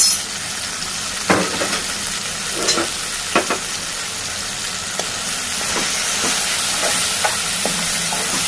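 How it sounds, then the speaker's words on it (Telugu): Raw banana curry cooks in a pan as chilli and coriander powder are stirred in: a steady close sizzle and hiss with repeated scraping strokes of the spoon, no talking. "ఇప్పుడు కారం ధనియాల పొడి వేసి బాగా కలపాలి"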